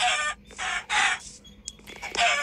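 Minecraft chickens cluck and squawk in loud, bursty calls, one after another, close up with short gaps between them.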